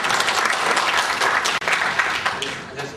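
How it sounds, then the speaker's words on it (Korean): A hall audience applauds to welcome the next speaker at an academic talk, with loud, dense and sustained clapping and a brief dropout midway. "여러분 박수로 환영해 주십시오."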